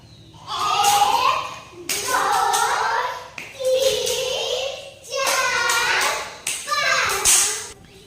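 Children in a first-grade classroom jump and clap their hands, about five loud bursts of claps and thuds in a steady rhythm, with children's voices mixed in between.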